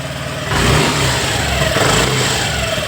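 A car engine with a rattling fault runs close by, rising into a sustained rev after half a second with a second surge later, a harsh broadband clatter riding over the low engine drone.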